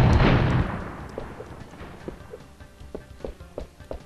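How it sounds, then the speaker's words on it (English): Gunfire in Crash Bandicoot: Warped, a loud booming blast decaying at the start followed by a rapid series of lighter shots and impacts, sharp and close with game sounds behind. "I can just shoot them"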